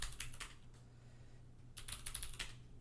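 Quick bursts of clicky keystrokes on a computer keyboard while entering commands in a Linux terminal, two clusters of typing separated by a short pause, close and quiet.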